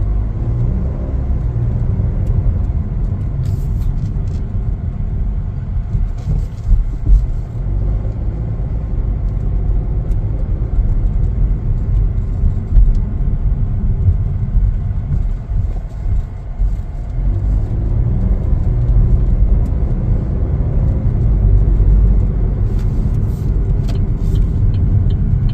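A 2026 Chevrolet Trax driving on a road, heard from inside as a steady low engine and road rumble with a smooth, even hum throughout and no voices.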